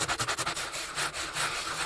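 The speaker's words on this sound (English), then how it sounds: "one of these sanding blocks from the local centre just to take this corner off." Close, brisk back-and-forth rubbing of a sanding block on a wood corner, quick rhythmic rasping strokes at first, then longer smoother passes, with no voices.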